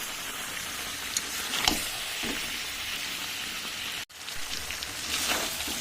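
Meat sautéing in oil in a pan, a steady, close, crackling sizzle with occasional stirring scrapes and one brief break.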